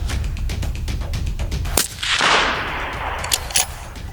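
Rifle shots ring out at a shooting practice range, a sharp nearby report followed by a long rolling echo, with smaller cracks and clatter around it.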